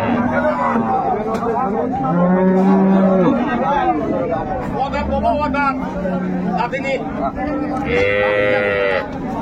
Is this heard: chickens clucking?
no